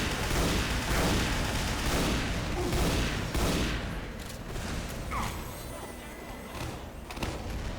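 Dense, continuous gunfire and booming shots in Team Fortress 2 Classic, loud and sustained with overlapping bursts and thuds throughout.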